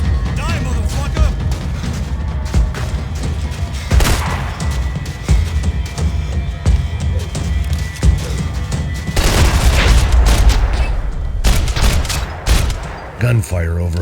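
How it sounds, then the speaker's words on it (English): Bursts of gunfire in the video game Max Payne 3 crackle through a loud, busy soundscape, with sharp repeated shots and rumbling booms, some voices mixed in. "Gunfire over Hoboken."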